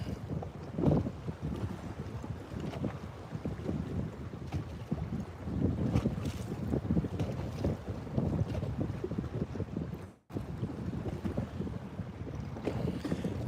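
Strong wind buffeting a boat during bass fishing in hurricane weather, a constant rough rumbling gust noise pressing on the microphone, loud and close, with a brief dropout near the end.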